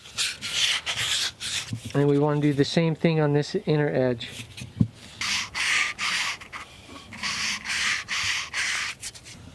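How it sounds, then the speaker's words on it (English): Sanding along the edge of a wooden boot-shaped piece to soften it slightly, a steady close scratchy rubbing that runs through most of the span, interrupted by someone talking for a couple of seconds. "We're sanding that edge, just softening it just a hair."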